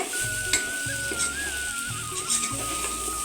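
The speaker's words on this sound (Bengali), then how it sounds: "আদা দিচ্ছি ভালো করে একটু নাড়াচাড়া করে" Ginger frying in a pan as it is stirred, with a steady close sizzle and repeated scraping strokes of the spoon about once a second, under a thin high whistle.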